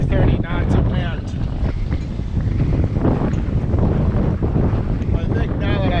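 Strong wind of about 25 to 30 knots roars across a sailboat at sea during an Atlantic crossing, a loud, continuous buffeting rush over the microphone with water and rigging noise beneath it.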